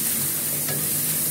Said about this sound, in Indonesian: Nah, kita tumis.